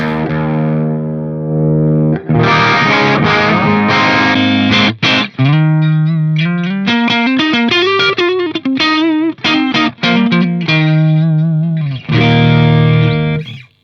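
Loud electric guitar through a Synergy Syn20IR with OS overdrive module, heavy distortion, chords and melodic lines ringing with gritty, saturated tone, played alone without talking.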